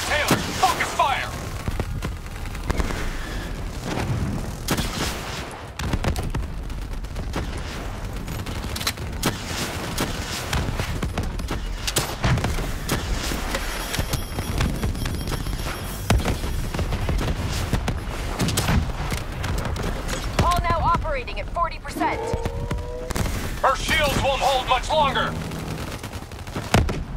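Sustained gunfire in Call of Duty: Black Ops III during the mission Demon Within, dense bursts and booms running throughout, with game voices speaking over the battle.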